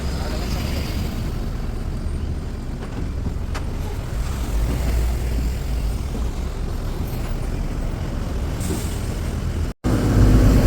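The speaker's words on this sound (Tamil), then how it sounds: "நாம இப்போ போகிற மாதிரியே ஆப்போசிட்டில் வண்டி வருது பாருங்கள்" Heavy road traffic rumbles steadily on a highway between Vizag and Jharsuguda near Bolangir, with trucks and lorries passing in the opposite direction, a continuous loud low drone with a brief dropout near the end.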